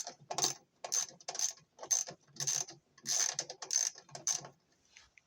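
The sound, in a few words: 10mm ratchet loosening bolts on LG washer stator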